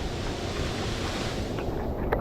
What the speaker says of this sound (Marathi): पूर्ण हा धबधबा आपल्याला दिसतोय